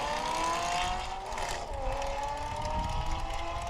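A race car sets off onto the course at a sports car racing event in Arnold, Nebraska, its engine droning loudly and steadily with a shifting pitch as it pulls away.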